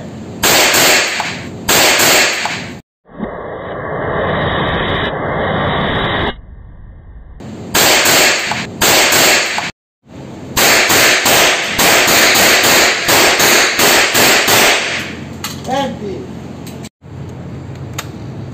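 Real handgun shots fired at a firing range, a series of loud sharp cracks in quick bursts, each with a ringing tail, and brief gaps of quiet between the volleys.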